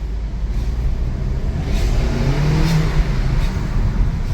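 A VW Golf Alltrack rolls out of a parking garage with its windows down, engine rumble and tyre noise echoing off concrete in a steady, close wash, rising slightly as it accelerates, with no talking.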